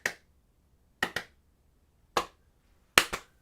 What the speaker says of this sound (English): that's clapping really low